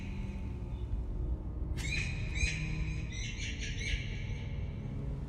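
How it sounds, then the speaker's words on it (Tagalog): A bird calls at night, a series of high, sharp chirping or squawking notes from mid-distance over a low, steady rumble of background ambience. "Doon na namin napansin na yung tunog ng ibon kanina ay naririnig pa rin namin."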